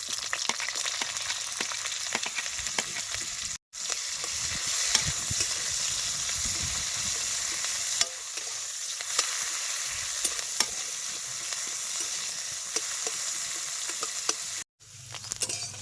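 Onion and ginger fry in oil in a wok, a steady loud close sizzle that runs almost the whole time, broken by a couple of brief cutoffs, with scattered scraping stir clicks and no voices.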